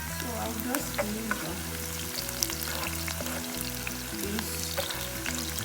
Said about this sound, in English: Fry my oil and let it warm up a little bit, and I will add my onion next.